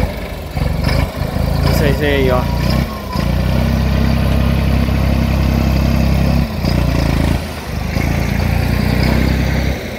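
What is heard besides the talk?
Valtra A74S tractor engine running at corn silage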